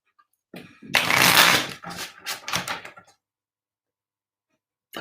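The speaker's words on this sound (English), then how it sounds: "let me just shuffle." Tarot cards being shuffled by hand, a close riffle of rapid papery flutters in several short bursts over about two seconds, followed by quiet.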